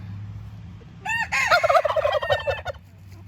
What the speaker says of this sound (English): They gobbled at a truck.